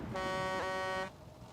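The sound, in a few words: truck horn in the video game Hell Let Loose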